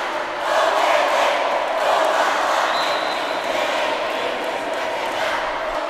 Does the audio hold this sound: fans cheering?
yes